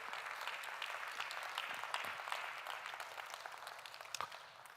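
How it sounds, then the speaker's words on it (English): Quiet, distant audience applause at a conference event on climate resilience in African agri-food systems, a steady patter of clapping that continues evenly with a few sharper claps near the end. "Let's give them another round of applause."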